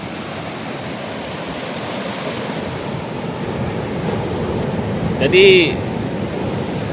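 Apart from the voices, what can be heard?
ocean waves crashing at the shore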